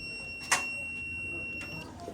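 A multimeter's continuity buzzer sounds while testing a microwave magnetron: a thin, steady high-pitched beep held for nearly two seconds, with a sharp click near the start and faint handling noise underneath.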